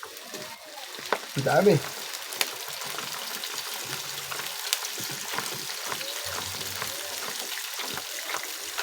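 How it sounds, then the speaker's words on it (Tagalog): Chicken pieces frying in a pan for chicken caldereta, a steady close sizzle with occasional stirring clatter while a voice speaks briefly. "Lagay na po natin ang chicken."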